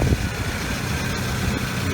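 Saab 9-3 engine idling steadily at close range while the air-conditioning compressor engages, a continuous low rumble with no clear click standing out.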